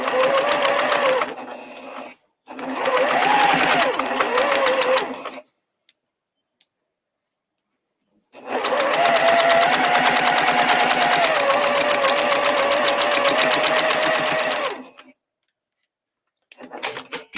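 A sewing machine runs close up, stitching a heavy seam on a holiday project in rapid, steady mechanical bursts: two short runs, a pause with faint clicks, then a long sustained run, with a faint tone sitting under the stitching.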